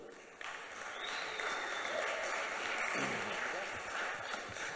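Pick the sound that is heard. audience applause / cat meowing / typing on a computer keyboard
audience applause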